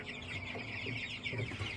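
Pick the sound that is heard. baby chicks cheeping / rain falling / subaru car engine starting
baby chicks cheeping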